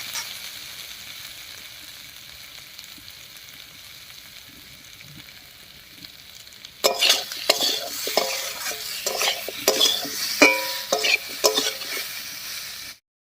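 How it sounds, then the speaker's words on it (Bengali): Taro sautéing in a pan with salt and turmeric, starting as a soft low simmer, then jumping to a loud sizzle with repeated scraping and clattering stirring strokes before cutting off. "লবণ আর হলুদ দিয়ে কচুটাকে একটু কষিয়ে নিয়েছি"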